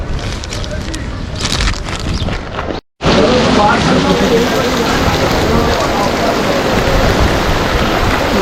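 Heavy rain pours down at the Meena Bazar underpass, a dense, steady roar of downpour on the surfaces that cuts out for a moment, then returns loud and unbroken.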